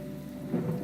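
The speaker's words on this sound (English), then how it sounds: "there's a rain and thunder track playing on the music" Rain and thunder ambience from a music track behind a Unity first-person shooter game, a steady wash of rainfall with a low rumble that swells toward the end.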